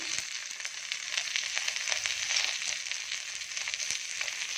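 Green chilies, onion, curry leaves, ginger and garlic hit a hot frying pan for a coconut milk rice dish, giving a steady, close, crackling sizzle with occasional sharper pops.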